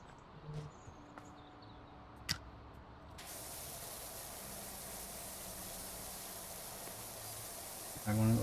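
Pressure washer spraying in the PowerWash Simulator 2 video game, a steady loud hiss of water that starts abruptly and runs continuously, over faint ambient bird and insect sounds.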